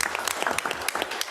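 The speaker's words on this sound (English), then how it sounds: "So round of applause to our partners" Brief applause at a school board meeting for community partners, a crisp patter of a modest number of hands clapping at close range, loud and uneven.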